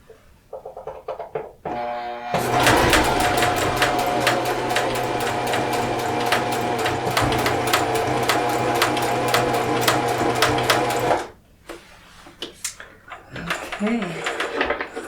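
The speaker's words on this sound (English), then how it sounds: "Just going to adjust the settings for my sewing machine." A sewing machine hemming seams runs in a long, fast mechanical whir of rapid stitching, close and steady, with quieter handling noises and a voice before and after.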